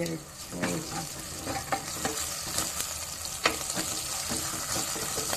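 Crushed ginger and garlic fry in a pan, a continuous close sizzle broken by frequent scraping stirs and clinks, with no talking.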